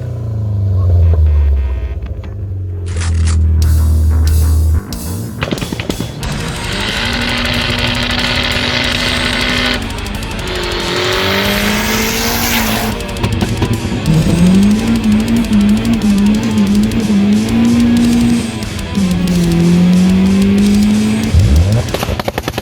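A Volkswagen Golf 2 GTI 16V turbo car starts and pulls away, its engine rising and falling through revs and gear changes with a whining turbo tone, loud and close, with voices talking at moments.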